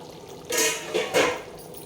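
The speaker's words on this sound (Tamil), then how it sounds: "இப்போ அரிசி சேர்த்துக்கலாம்." Soaked rice tipped into a pot of boiling water for chicken biryani makes a few quick watery splashes and pours in bursts over a low bubbling background.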